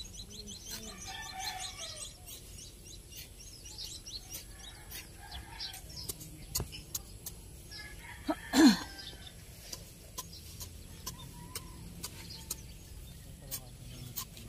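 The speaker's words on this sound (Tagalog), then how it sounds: "daming ibon" Faint birds chirping in the distance over quiet outdoor ambience, with one brief louder flutter or call midway.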